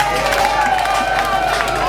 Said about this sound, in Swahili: Hebu piga makofi kwa Samia.